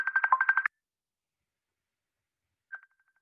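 A telephone tone for an incoming call: a fast burst of trilling electronic beeps for under a second, then silence, then one short, fainter chirp near the end, clear and isolated.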